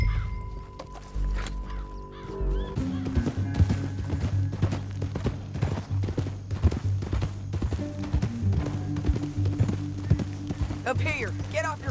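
Steady clip-clop of horse hooves at a walking pace in the video game Red Dead Redemption, fairly close, with voices talking over them and a brief neigh near the end.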